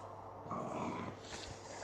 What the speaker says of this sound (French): Désolé pour mes chiens, mais bon.